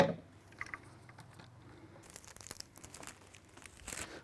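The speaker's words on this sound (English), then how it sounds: "Now I'm ready to tape it together." Tape pulled off the roll and pressed on to hold a mold together, crinkly close tearing and crackling with small taps, quiet and without talk.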